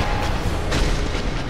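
A boss in Dark Souls unleashes a powerful explosion attack, a loud, dense burst of booming roar that fills the moment with a sharper surge near the middle, with no voices.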